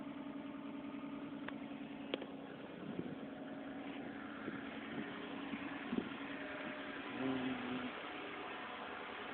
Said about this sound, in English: typical for a cold engine